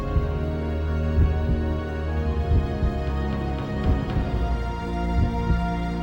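Low, steady heartbeat thumping in the .hack//Quarantine video game, a repeated pulsing throb under a droning hum, fairly loud and without voices.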